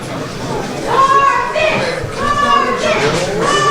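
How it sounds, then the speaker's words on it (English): Young-sounding voices shout and cheer in bursts from a wrestling crowd at a live title-bracket match, rising and falling in loose overlapping waves with no single voice standing out. "There you hear the voice of some of the lovely fans in the crowd"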